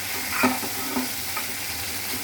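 Potato pieces fry in a pan for a South Indian potato roast, a steady broadband sizzle broken by a few scraping stirs, close and fairly loud with no talk.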